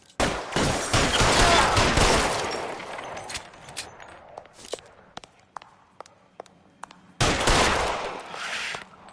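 Shotgun gunfire during a shootout in the 1940s Los Angeles crime game L.A. Noire, with loud, heavy blasts and a clatter of scattered sharp shots and footsteps between them, then another big burst at the end.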